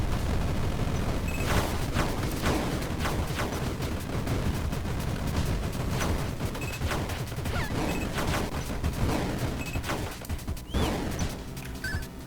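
Player's weapon in the video game Star of Providence fires rapidly and continuously, a dense steady barrage of shots with sharper bursts scattered throughout, loud and without talk.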